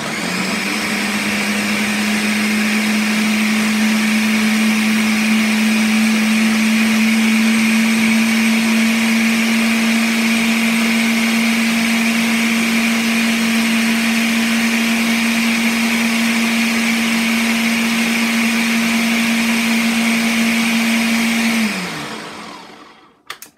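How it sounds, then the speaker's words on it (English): A countertop blender whirs at a steady high speed for about twenty seconds while blending mango, kiwi and ginger into juice, then winds down and stops, with a brief clunk at the end. "You can add ice to the blender or you can add it to your juice."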